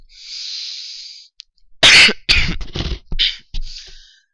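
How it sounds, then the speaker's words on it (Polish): A soft hiss gives way to a burst of harsh, close coughing, several sharp explosive fits in quick succession, then quiet. "coś mi kaszel dzisiaj złapał."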